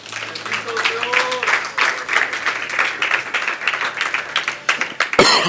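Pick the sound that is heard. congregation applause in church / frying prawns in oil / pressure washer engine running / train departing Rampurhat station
congregation applause in church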